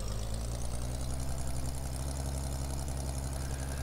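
A tractor engine in Farming Simulator 2013 idles and runs steadily throughout, a constant low droning hum with no breaks and no voices.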